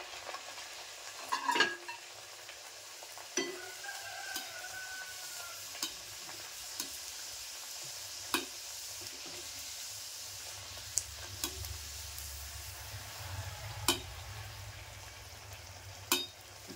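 Malvani vade, flattened rounds of dough, fry in hot oil with a steady close sizzle and bubbling that runs throughout, broken by occasional sharp clinks of a utensil against the pan and no voices.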